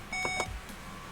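Navigation system in a Volkswagen Passat sounding its switch-off reminder: two short, clear electronic beeps in quick succession inside the cabin, with no talk over them.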